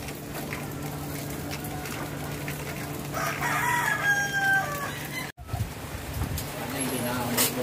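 A rooster crows outdoors in the Philippines as a typhoon passes, a rising call around the middle standing out over steady wind and rain noise, with people talking nearby.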